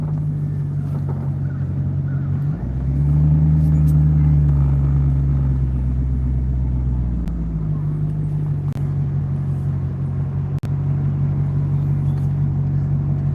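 A car engine rumbles steadily while driving, swelling louder for a few seconds as it revs, with a sharp pop or crackle near the end.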